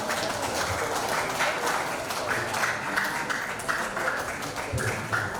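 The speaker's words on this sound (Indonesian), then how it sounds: "Boleh kita berikan tepuk tangan ini sekali lagi" An audience gives steady, sustained applause for a representative of the Confucian religious community at an Indonesian civic gathering. The clapping stays fairly even at moderate loudness, with a voice faintly under it.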